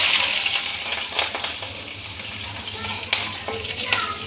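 Green chillies and cumin seeds sizzle and crackle in hot oil in a home kitchen pan, a loud, close, continuous fry with a few spoon clinks and stirring scrapes.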